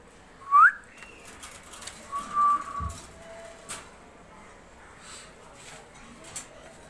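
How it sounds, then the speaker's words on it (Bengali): Racer pigeons at a pigeon farm give a few soft, close coos and whistled calls, scattered among quiet pauses and faint background noise. "রেসার কবুতর"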